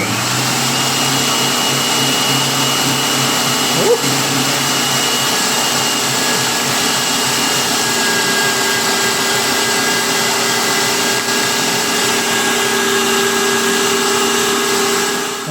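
A loud, steady electric motor whine from a Tefal 7-in-1 meat grinder runs continuously with a constant hum and high buzz, nearby and unbroken.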